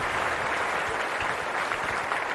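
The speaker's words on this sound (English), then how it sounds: "Applause for that, too." Dense, steady clapping applause lasts a couple of seconds at an even level with no voices over it, heard during an Elden Ring Shadow of the Erdtree playthrough.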